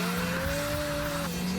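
A Ford Fiesta ST launches hard with traction control off, tyres squealing in a sustained tonal screech over a loud engine drone, the pitch holding then dropping as the wheelspin ends.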